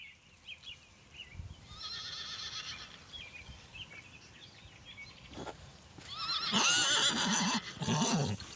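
A horse neighs repeatedly, shrill whinnies rising twice over a quieter stretch with soft shuffling, as a mare gives birth to a foal; calls are moderately close and grow louder near the end.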